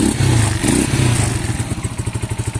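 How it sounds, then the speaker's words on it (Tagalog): A motorcycle engine idles loudly and close, a brief rev at the start settling into a steady, lumpy putter with no voices. "Marinig pa yung makina niya."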